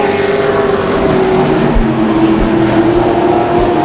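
Outlaw race cars circle the Tucson Speedway track, engines roaring loud and continuous as they pass near, with pitch shifting as they go by and no talk over it.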